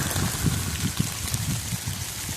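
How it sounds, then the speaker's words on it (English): Rain patters steadily outdoors in a wooded area, a dense close hiss with soft irregular low thumps of drops hitting a surface, and no voices. "it's starting to rain harder"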